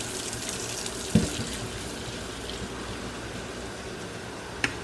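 A faucet runs steadily into a sink while makeup brushes are washed in lukewarm water with a bleach-containing cleanser, a continuous close wash of water with a couple of brief knocks and splashes.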